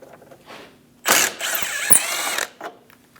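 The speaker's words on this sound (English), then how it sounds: "remove the other 5 10mm bolts" A ratchet clicks rapidly in short bursts while removing 10mm bolts from a headlight bracket on a 2001-2006 Chevrolet Silverado 2500 HD, close and fairly loud, with brief pauses between runs.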